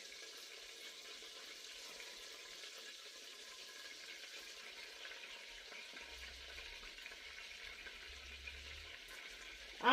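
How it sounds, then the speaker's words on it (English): Butter boiling in a pot on the stove for cocoa krispies treats, a steady, faint bubbling sizzle that runs on without a break and ends in a brief louder clatter, with no voices. "my butter is boiling away"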